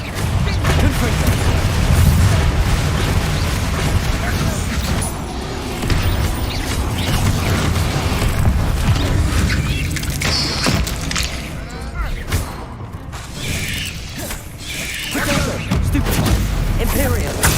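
Confringo fire blast spells cast in Hogwarts Legacy, a dense run of booming, crackling magical blasts and mechanical clatter with a loud, busy texture throughout, under game speech.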